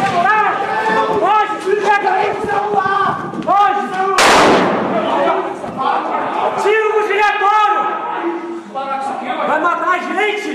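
A single sharp gunshot fired by a security guard cracks out amid a tense crowd scene, surrounded by shouting voices and agitated speech before and after the blast.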